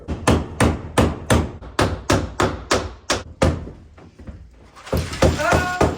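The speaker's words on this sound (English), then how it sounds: "Grab your little hammer." Repeated sharp strikes from a small hammer ring out in a quick, steady rhythm, about a dozen blows, then a brief pause before a few more metallic taps.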